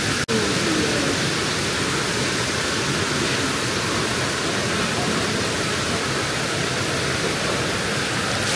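A jungle river on the way to Ulu Sepat rushes in a dense, constant roar of flowing water, loud and close, with a sharp click at the start and no other sound rising above it.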